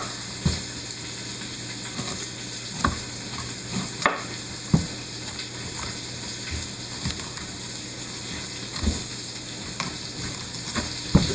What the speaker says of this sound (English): Once the bacon is done browning